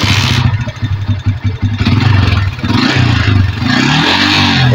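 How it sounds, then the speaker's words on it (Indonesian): A Yamaha Vixion motorcycle engine fires up and settles into a steady, loud running idle close by, with a rhythmic low pulse and some mechanical clatter, no voices. "Kita nyalakan motor."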